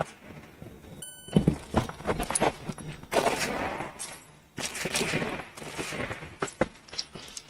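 Gunfire from an open-division pistol during a USPSA stage run with a swinger target, rapid close shots in several quick strings separated by brief pauses, loud and echoing with no talk over them.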